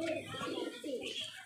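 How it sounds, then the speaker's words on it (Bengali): Large pigeons cooing close by in a bird-sale setting, soft repeated throaty coos rolling one after another, with faint voices in the background. "খুব বড় পায়রা"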